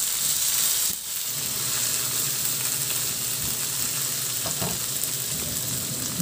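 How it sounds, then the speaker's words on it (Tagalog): Onions and tomatoes frying in a pan, a steady close sizzle with scraping stirs now and then, cooked for a tilapia dish; no voices. "Ihalo lang din hanggang sa maluto yung kamatis"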